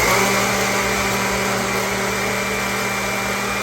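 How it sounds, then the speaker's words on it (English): A Cocinare countertop blender runs at full power, a loud steady motor whine with a constant low hum throughout, no voices over it. "Look at that powerful blender go."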